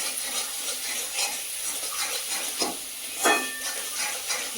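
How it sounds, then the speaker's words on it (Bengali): Spice paste with Kashmiri chili sautéing in hot oil, giving a soft, steady sizzle and crackle with occasional stirring scrapes and brief spits, close and fairly quiet with no voices. "দিয়ে ভালো করে কষিয়ে নেবো মশলাটা"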